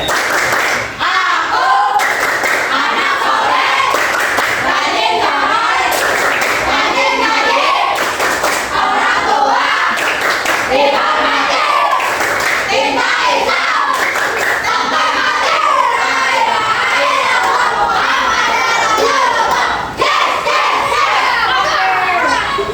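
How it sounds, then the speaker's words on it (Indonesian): Classroom of children chanting and clapping the "tepuk anak soleh" rhythm together, a loud, continuous mix of young voices, claps and thumps filling the room throughout. "Oke, kita tepuk anak soleh dulu yuk."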